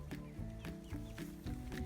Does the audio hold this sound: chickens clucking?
yes